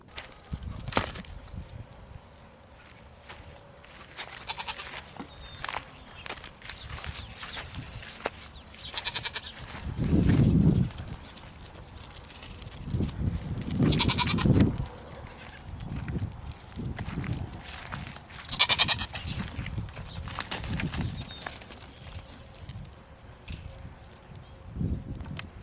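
Goats on a small farm bleat in scattered calls, some loud and close, others fainter, over a background of rustling, footsteps and a person talking at times.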